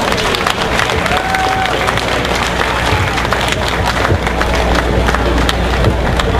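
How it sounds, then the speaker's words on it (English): Audience applause at a Tea Party Express rally in Manchester, a loud, sustained mass of clapping and crowd noise with scattered cheers, continuing unbroken throughout. "big round of applause for Mike George from Strong America Now."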